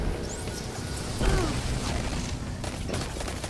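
A grenade detonates in the Destiny 2 shooter, giving a short burst with a rumbling tail that sits among busy mechanical game effects and steady background noise, fairly close but not especially loud.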